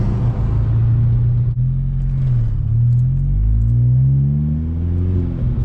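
Stage 3 tuned Audi A4 making about 450 hp, its engine droning low and steady as it pulls under acceleration, with the clutch and flywheel chatter buried in the rumble and no voices.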